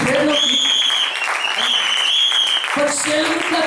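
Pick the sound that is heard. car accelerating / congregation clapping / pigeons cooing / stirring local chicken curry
congregation clapping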